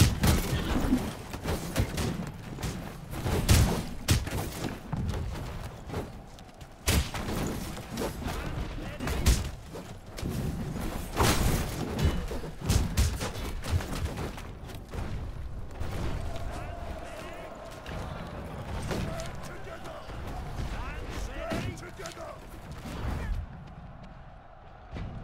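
A volley of gunfire rings out in the video game Conqueror's Blade, repeated rippling bursts of shots and thuds across a battlefield din, with shouted commands over the top.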